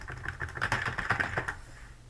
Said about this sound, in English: I'm just gonna type something